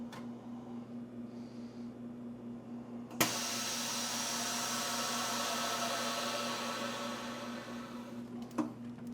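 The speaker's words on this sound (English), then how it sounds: "we are doing a compact vacuum seal because we really want to hold that tight" A vacuum sealer compacts and seals frozen par-baked pizza. After a quiet hum, a steady motor-and-pump drone starts abruptly, runs evenly for about five seconds, then cuts off with a brief clunk.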